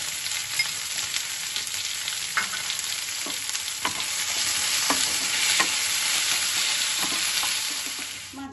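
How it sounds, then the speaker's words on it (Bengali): Marinated fish sizzling and frying in a pan for a chilli fish dish, a steady close hiss with occasional sharper pops and crackles and some stirring clatter, the sizzle swelling slightly louder midway; no talk. "মাছটা ভাজা বসিয়েছি"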